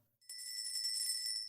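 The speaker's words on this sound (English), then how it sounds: "His thoughts were broken by the ringing bell." A shop bell rings late in the evening at a clockmaker's shop, a bright sustained metallic ringing that starts abruptly and continues steadily, close and alone.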